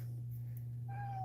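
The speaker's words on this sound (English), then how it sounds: "he's a very indecisive cat." A cat gives one short, fairly faint meow near the end, heard over a steady low electrical hum.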